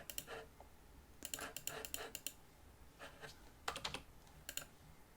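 Fingers tap on a computer keyboard in a quiet room, soft close-up clicks coming in short rapid bursts separated by brief pauses, with no talking.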